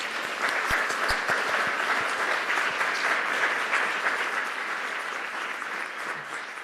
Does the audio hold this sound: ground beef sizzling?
no